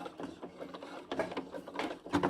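A sewing machine back-stitching along a trouser hem runs in short mechanical bursts, pausing and restarting a few times, close and moderately loud.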